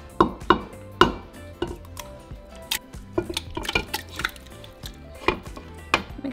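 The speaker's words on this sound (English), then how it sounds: "So I'm going to add my meat into our pot." Pieces of beef clattering into a metal cooking pot for Sinaloa-style barbacoa, a series of sharp knocks and scrapes of utensils against the pot, close and irregular.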